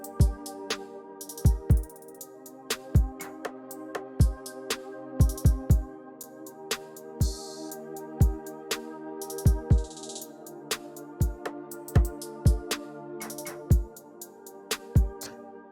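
A DLDT hip-hop drum loop without the 808: sharp snare and kick hits in a steady pattern, with short crash bursts whose highs are cut by EQ, played alone at moderate volume.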